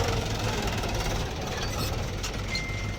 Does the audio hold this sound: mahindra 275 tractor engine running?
yes